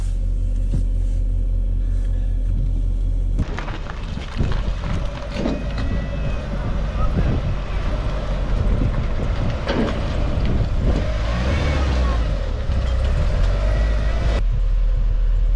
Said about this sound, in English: So yeah, just going to get it on the trailer now,